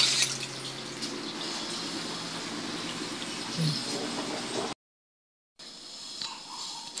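Steady running water pours while washed rugs are rinsed, a continuous close splashing flow that cuts out briefly near the end before resuming.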